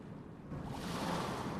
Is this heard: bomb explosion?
no